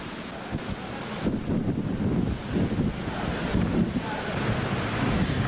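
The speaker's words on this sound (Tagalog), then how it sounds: "Ang tubig, mabilis na rumaragasa." Typhoon floodwater rushes fast past an elementary school in a broad, continuous roar, loud and unbroken, with gusts of wind buffeting the microphone and no one speaking.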